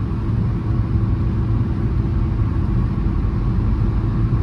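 A car engine pulling uphill in fifth gear, a steady loud low rumble that holds constant throughout without distinct revving peaks.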